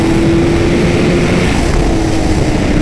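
A 2017 Honda CBR 1000 RR SP superbike engine on a race track roars loud and steady with a constant sustained tone, dense and continuous without pause.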